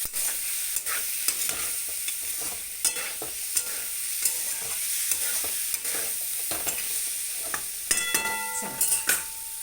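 Masala is roasted and stirred in a pan, with repeated scraping strokes of a spoon against the metal over a light sizzle, close and clear, with sharper clinks near the end.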